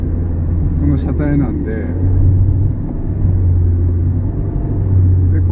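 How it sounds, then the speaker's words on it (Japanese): A 2000cc naturally aspirated DOHC car engine runs steadily above 3000 rpm, a continuous low droning hum heard from inside the car beneath a man's speech. "今3000回転以上ぐらいですけど、結構なパワーバンドだと思うんですよね。"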